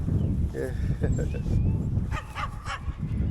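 A Rottweiler lets out short whiny yips and soft barking close by, mixed in with people talking.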